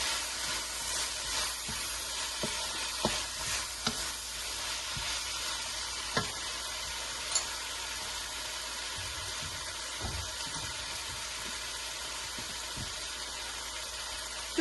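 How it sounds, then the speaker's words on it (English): Vegetable chowmein stir-fried in a pan with sauces and seasonings gives a steady, moderately loud sizzle, with a few sharp ticks and scrapes as it is tossed; no one speaks. "इसे आप बहुत अच्छे से मिक्स कर लीजिए so that all the vegetables are well coated with the sauces"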